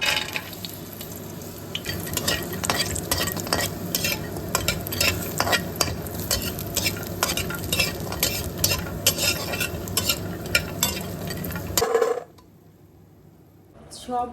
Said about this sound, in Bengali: কুমড়োর বড়িগুলি অবশ্যই একটু তেলে ভেজে নিতে হবে আগে